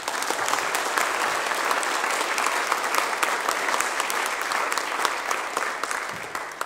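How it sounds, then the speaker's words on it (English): Church congregation at a Baptist Sunday morning service applauds in a steady, dense round of clapping that fills the room at even loudness from start to finish, with no pauses. "So another just very quick round of applause and thanks to Mhoira"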